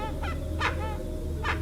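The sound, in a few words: birds calling outside a haunted hacienda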